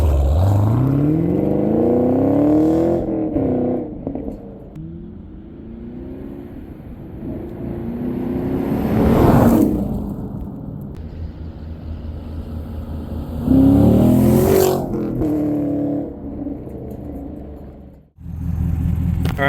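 A Chevrolet Camaro with a 6.2 V8, stock exhaust and track mode open, accelerates past twice. It rises from a deep rumble to a loud close roar as it passes, fades away in between, and ends abruptly.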